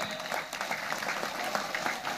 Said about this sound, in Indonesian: Tolong tepuk tangan buat NU.